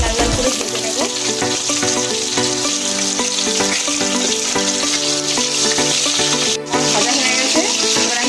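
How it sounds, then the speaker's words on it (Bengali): Chicken satay skewers frying in hot oil, a loud continuous close sizzle and bubbling that holds steady throughout, with no voices. "তেল গরম হয়ে গেছে, তেলে দিয়ে দিলাম। স্যাটেগুলো আমি লাল লাল করে ভেজে নেব।"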